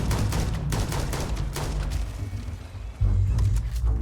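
Gunfire in the video game Starfield comes as a dense, loud volley of rapid shots with heavy low booms, keeping up steadily and swelling again near the end.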